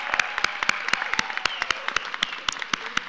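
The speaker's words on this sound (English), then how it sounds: "Please give him another round of applause." Scattered clapping at a spring graduation ceremony, a few distinct, irregular sharp claps rather than a full ovation, fairly close and with no talk over it.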